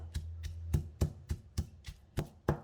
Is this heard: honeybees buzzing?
no